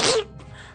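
A human voice imitating Donald Duck sneezing: one short, loud, breathy burst that quickly trails off into quiet room tone.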